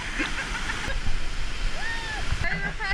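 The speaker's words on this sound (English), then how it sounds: "There's a little waterfall to swim in." A small swimming waterfall on the road to Hana in Maui gives a steady rushing wash of falling water. A few brief splashes and faint voices sit over it.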